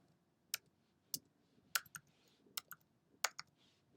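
Computer keyboard keys tapped and clicked while building a WordPress page, about six sharp separate clicks spaced irregularly, close and crisp against a quiet room with no talking.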